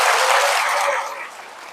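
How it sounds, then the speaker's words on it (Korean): Applause from a church congregation at a Catholic Holy Spirit retreat center fills the space, a dense wash of clapping that is loud at first and tapers off slightly toward the end, with no voices over it. "봉사자분들을 위해서 박수 한번 쳐주세요"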